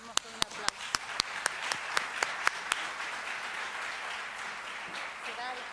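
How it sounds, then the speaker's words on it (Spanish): Audience at an educators' gathering in Rosario applauding to welcome a speaker: a few loud, sharp claps up close over a quieter spread of clapping that fades out, with voices underneath. "Lo recibimos con un aplauso."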